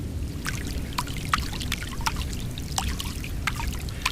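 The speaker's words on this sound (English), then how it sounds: "the dripping sound returned" Water drips with an irregular rhythm, a steady run of small, close plinks and taps over a low, constant rumble of background noise. Nobody speaks.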